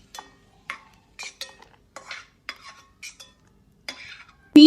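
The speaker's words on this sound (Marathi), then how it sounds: "आता हे मी प्लेटमध्ये काढून घेते." Sautéed food is scraped from a pan onto a plate while making sevai kheer: a series of short, separate scraping and clinking knocks from a spoon on metal, each distinct, ending with a louder clink.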